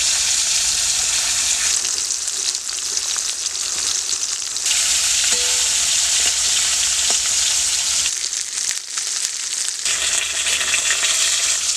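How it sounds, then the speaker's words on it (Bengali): Rohu fish pieces sizzle and fry in a pan, a steady loud crackling hiss with brief stirring or turning noises and a short lull partway through, no voices over it. "মাছগুলো আমার ভাজা হয়ে গেছে"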